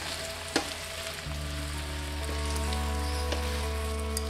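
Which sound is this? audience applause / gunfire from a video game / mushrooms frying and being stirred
mushrooms frying and being stirred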